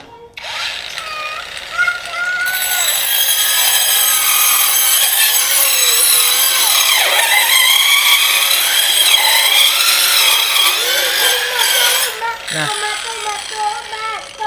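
A Fuyaon brushless grinder fitted with a saw blade cuts into wood on its lowest speed setting, a loud, sustained high-pitched whine with wavering pitch under load, a brief break near the end, then resuming.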